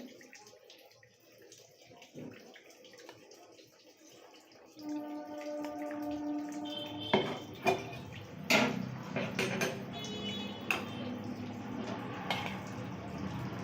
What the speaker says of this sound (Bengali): মা এখানে মাটন যে সেদ্ধ করে রেখেছে সেই স্টকটা মা ছেঁকে নিচ্ছে